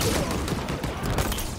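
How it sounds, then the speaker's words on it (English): Sniper rifle hip-fired in Halo Infinite, a dense burst of loud gunfire crackling across a short stretch with no voices over it. "I'm like hip firing a sniper rifle right now"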